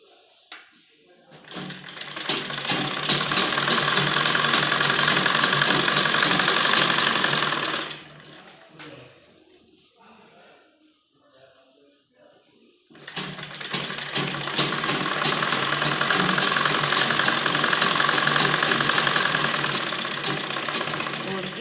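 An electric sewing machine stitches kurti fabric in long, fast, loud whirring bursts, stopping for a quiet pause in the middle before running steadily again, with soft handling sounds in the gap.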